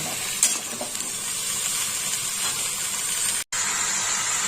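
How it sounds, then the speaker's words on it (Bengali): Ginger paste fries in a pan with a steady, dense sizzle up close, with light stirring and a brief moment of silence near the end. "এবার আদা বাটাটা ভালো করে আগে ভেজে নেবো"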